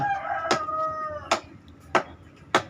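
A rooster crows once, followed by a few sharp, separate knocks or clucks spaced evenly apart in a quiet setting.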